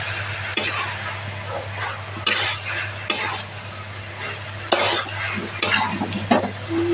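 Paneer broccoli curry with soy sauce is stirred in a pan, with several scraping spatula strokes and light clinks recurring at irregular intervals over a steady low hum and soft sizzle.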